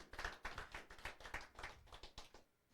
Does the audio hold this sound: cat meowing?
no